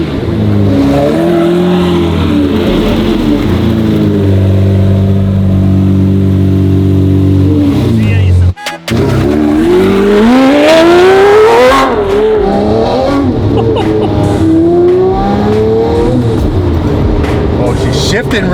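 A manual V12 Lamborghini Murciélago of 640 horsepower revs and accelerates hard close by, its engine note climbing through gear shifts and breaking off briefly mid-pull, with people talking over the roar.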